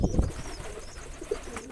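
Courting pigeons, a 'giring' pair, give low soft coos near the mic, strongest at the start with a few brief murmurs after, and no talk.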